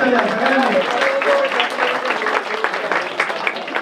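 An audience claps steadily at a birthday celebration for a former Panvel panchayat committee member, a dense, even applause lasting the whole stretch, with voices mixed in underneath.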